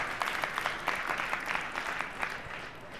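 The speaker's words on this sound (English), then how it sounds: "Could you please clap again?" Applause from an audience at the ECS2015 Innovation Slam, moderately loud, even clapping from a modest crowd lasting about three seconds without speech.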